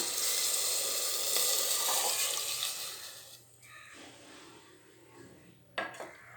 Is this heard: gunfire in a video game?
no